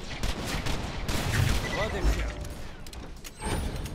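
Rapid bursts of gunfire from the video game Borderlands 2 crackle repeatedly against a busy game soundscape, with short loud volleys and a shotgun blast, while people talk over the action.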